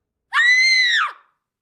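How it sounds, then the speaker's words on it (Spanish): A young girl lets out a single heart-rending scream, high, loud and sustained for nearly a second before trailing off into silence. "La joven dio un grito desgarrador."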